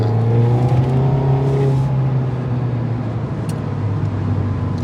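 Mazda MX-5 heard from inside while driving, a loud steady engine drone with a slight pitch drop and constant road rumble, with no speech.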